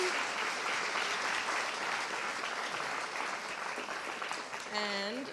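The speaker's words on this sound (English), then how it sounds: "let's give one more round of applause for Geetika" Audience at a morning talk giving a speaker a sustained round of applause, even and continuous, with a voice speaking briefly near the end.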